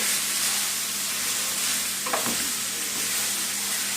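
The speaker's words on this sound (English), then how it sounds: "Make sure you keep stirring so that noodles can break down." Stir-fry noodles being stirred in a hot pan, a steady continuous sizzle of frying with a brief scraping clatter of the utensil midway, close and even, without talk.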